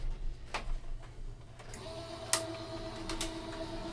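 A die-cutting machine pressing a pattern through a die without a shim, giving a steady mechanical whir with a few sharp clicking bursts over a faint background hum.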